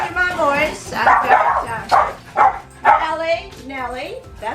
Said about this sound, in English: got Nellie, that's Nellie in the window, barking her inside stuff.